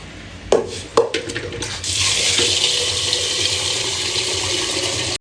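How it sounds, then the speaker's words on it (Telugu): Water poured into a pot of washed ration rice for cooking, about one and a half glasses: a few sharp clanks of the vessel, then a loud, steady gushing pour that fills the rest. "దానికి చూడండి ఇది నిండా వాటర్ అయితే పోసాను"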